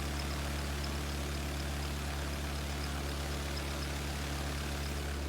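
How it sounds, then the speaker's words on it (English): A small car window motor, part of a home-built experimental circuit, runs with a smooth, steady low hum at constant level from start to end, with no voices. "A smooth little motor."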